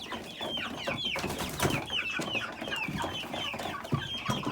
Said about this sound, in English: Lots of chicks.